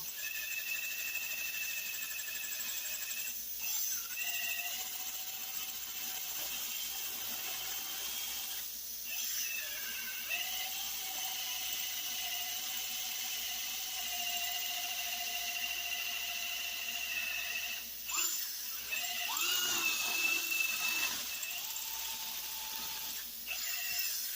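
A drill bores into a metal jig plate with chips flying, producing a steady high-pitched whine with shifting tones as the bit cuts, plus brief scraping bursts near the end.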